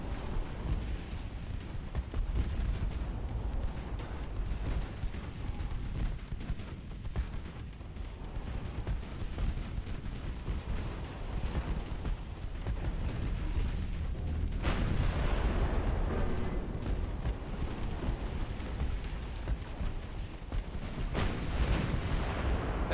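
Heavy naval gunfire from a battleship's 12-inch high-explosive shells in a warship strategy game, a dense continuous rumble of booms and blasts with a louder surge of explosions midway, no talk over it.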